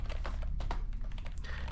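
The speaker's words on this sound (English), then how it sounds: "this is a keyboard I took from somewhere on Earth. It's a very old keyboard" A very old computer keyboard, repainted and reprogrammed, is typed on in quick irregular bursts of clacking keystrokes, close and fairly quiet with no voices over it.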